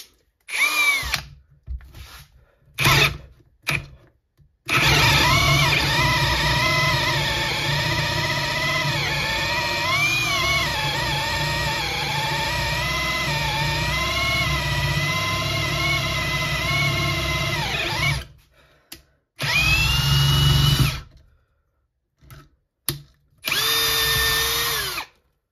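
A Parkside PABSP 20-Li C2 cordless drill driver runs at its second speed in a loud, steady, close motor whine lasting about fourteen seconds, with pitch wavering under load, framed by short start-and-stop bursts.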